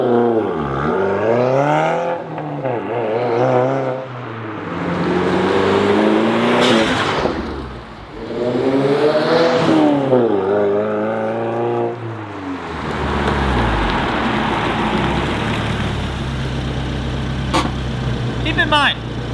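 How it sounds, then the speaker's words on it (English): 2022 Subaru WRX fitted with an AWE touring catback exhaust with mufflers and a resonator, revving in several drive-bys: engine notes swell and fall as the car passes, with someone talking over parts of it. "AWE touring catback with mufflers and a resonator, and for daily driving use, it's really not too loud."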